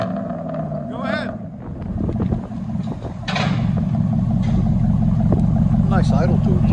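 A car idles through an aftermarket exhaust tip, a steady low rumble that swells louder after a few seconds and then holds, while people talk over it.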